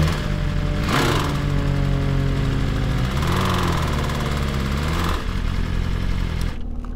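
A BMW M1000RR motorcycle with a failed engine runs roughly, its note wavering and shifting in pitch under a rattly mechanical layer, close and loud, before cutting out abruptly near the end.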